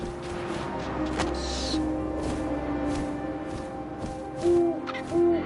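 An owl in the video game What Remains of Edith Finch gives two soft, clear hoots near the end, over a low windy ambience.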